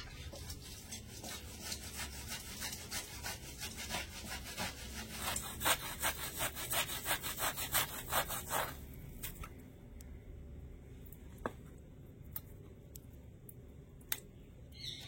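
Ripe palm fruit pulp is rubbed against a hand grater in repeated rasping back-and-forth strokes, close and fairly quiet, growing busier midway and then thinning to a few scattered scrapes and taps.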